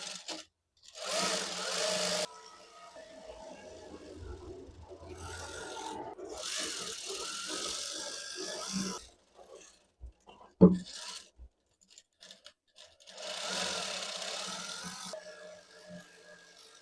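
Sewing machine stitching the bottom hem of a kameez in several short runs of rapid, buzzing whir, separated by pauses with handling noise, a sharp knock and faint background voice.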